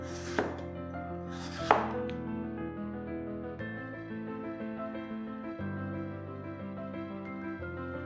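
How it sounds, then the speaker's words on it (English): Two sharp knife strokes cutting a potato into thin 2–3 mm slices on a board, close and crisp near the start, followed by a steady tonal background with no further cuts. "Then slice the potato into about 2 to 3 mm slices."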